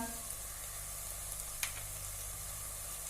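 Dry masala spices sautéing with tomato for pavta rice give off a soft, steady sizzle with a brief brighter crackle midway, quiet and close, with no talking.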